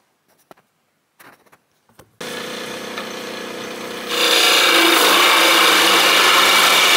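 A metal lathe turns down a long single telemark ski pole, starting with a few quiet taps and clicks, then a steady loud whirring hum of the machine that grows harsher and louder as the cutting begins.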